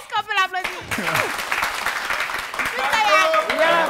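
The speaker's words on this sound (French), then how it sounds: "mon camarade, est-ce qu'on peut l'applaudir?" A crowd applauds and cheers at an elimination round of a holiday competition, with loud, sustained clapping mixed with excited voices and shouting throughout.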